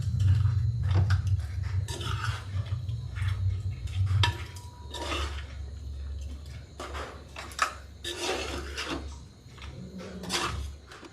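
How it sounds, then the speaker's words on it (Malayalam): Masala for a king-size crab gravy is stirred in a pan, with irregular metal spoon scrapes and clanks against the cookware over a low hum, sometimes louder knocks, and no talking. "ഞാൻ ആദ്യം കുറച്ചിട്ടിട്ടൊന്ന് മസാല ഒന്ന് ഇളക്കി കൊടുക്കട്ടെ."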